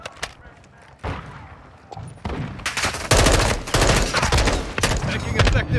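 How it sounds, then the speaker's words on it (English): Call of Duty gunfire during an invasion match: sharp shots building into loud, rapid overlapping bursts that grow denser toward the end, with faint game voice callouts underneath. "Taking effective fire."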